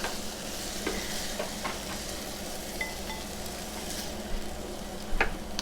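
Garlic sizzles steadily in a hot pan, a soft even frying hiss broken by a few light stirring scrapes and clicks, with a sharper clink near the end.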